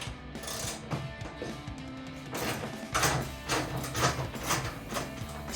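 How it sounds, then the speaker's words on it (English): A 10mm ratchet backs out the rear fastener of a Husky rear wheel well liner on a 2021-2023 Ford F-150, giving close, repeated clicking bursts of the pawl with handling noise in between. "I'm going to remove the rear fastener with the 10mm ratchet"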